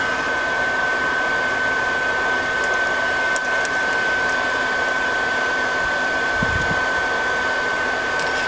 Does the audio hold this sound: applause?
no